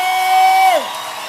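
A crowd at a church crusade cheers with a sustained high ululation for a singer, a loud ringing trill that slides downward and gives way to lower crowd noise.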